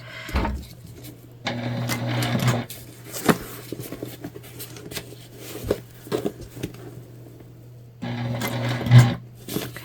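A sewing machine stitches through a thick seam on a tote bag in loud motorized bursts, with a steady hum and needle chatter that stops and restarts, pausing briefly in the middle before running again.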